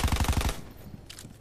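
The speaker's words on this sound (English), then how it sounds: "Sentry turret coming online." A sentry turret in Black Ops 4 fires a quick automatic burst of about eight evenly spaced loud shots, then cuts off, leaving faint trailing rattles and a brief higher clatter.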